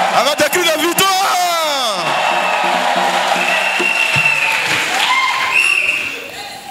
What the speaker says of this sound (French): Offrande d'acclamation pour le Seigneur Jésus-Christ. Avec des cris de joie.